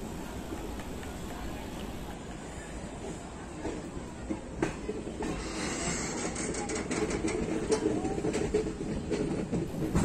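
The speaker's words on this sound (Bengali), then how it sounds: "আবার ট্রেনটা চলতে শুরু করলো" A Teesta Torsa Express train pulling away from Naihati junction gives a steady rumble with faint clicks of wagons and wheels. A few brief higher squeaks rise over it as it slowly gathers speed.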